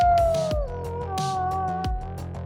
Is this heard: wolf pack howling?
yes